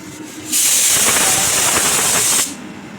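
Battered drumstick-flower fritters hit hot oil and set off a loud, hissing surge of sizzling that lasts about two seconds before settling back to a quieter background crackle.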